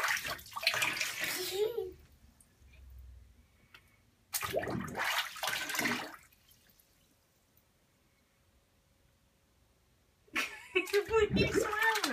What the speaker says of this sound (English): You rinsing yourself off?